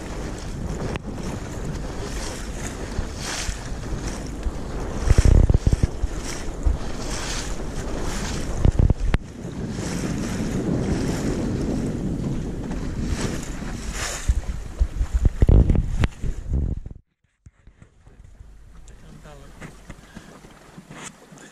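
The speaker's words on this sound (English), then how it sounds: "So this is sailing up Loch Craignish, having come across from Jura, sailed quite a way" A sailboat moves up Loch Craignish in Scotland, carrying steady wind rush and lapping water with heavy microphone buffeting, louder gusts around the middle, then a sudden drop to a quieter, calmer hiss near the end.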